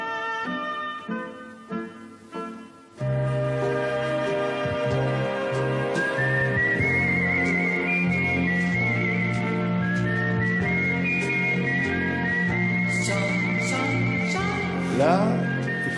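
A whistler whistles a bright melodic line inside a film score, rising over a full, sustained orchestral bed that swells in after a few seconds of sparse, quieter opening music.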